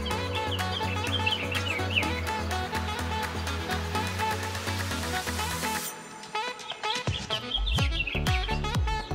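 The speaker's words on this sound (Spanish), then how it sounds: "hasta los pajaritos se encuentran contentos" Birds chirp and cluck in the garden of Tlalcozahua during a priest's ordination, quick bright calls mixed into a dense, loud musical din, growing more exposed and scattered in the final few seconds.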